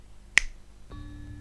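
One crisp finger snap, sharp and close, followed by a faint low hum.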